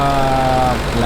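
Porsche 930 engine idling just after starting, a steady mid-pitched running hum with a faint tonal whine, close and continuous, the engine still needing work on its choke.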